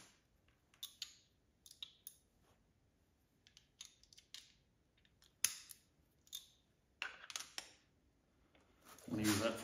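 A socket wrench ratchets in short, quick bursts of clicks while working on a Subaru WRX STI EJ257 engine during a timing belt install, with a person talking intermittently between the bursts.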